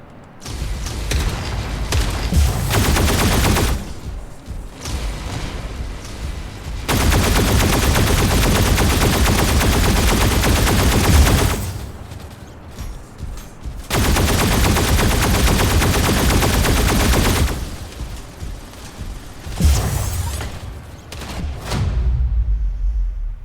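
Plasma cannon firing in a video game, long loud sustained bursts of rapid heavy blasts that cut off and restart several times, with brief quieter gaps between volleys.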